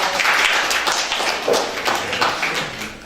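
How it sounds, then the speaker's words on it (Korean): A studio audience applauds at a Korean comedy show, a dense, loud wash of clapping that holds steady for about three seconds. "박수 주세요."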